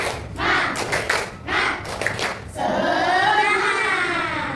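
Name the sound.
class doing a rhythmic spirit clap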